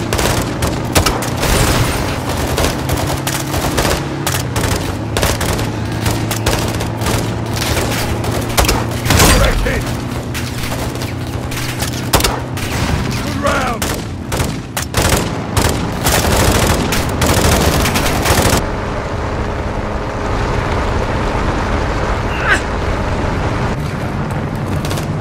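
Dense gunfire and explosions fill a Call of Duty: Modern Warfare battle in Urzikstan, with sustained automatic bursts and heavy booms from a grenade launcher, loud and continuous throughout, while voices shout over the combat.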